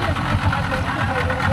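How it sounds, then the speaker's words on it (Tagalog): A Yamaha-powered speedboat engine runs at steady high revs, loud and close, with rushing wind and water noise throughout. "Ayan ang gamit nating makina, Yamaha to speedboat."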